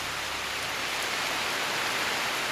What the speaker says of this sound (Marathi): तुम्हाला पाऊस दाखवतो पाऊस किती आहे तो